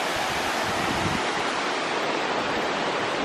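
A waterfall in Springbrook National Park pours with a constant dense roaring hiss, full and unbroken, heard up close without any talking.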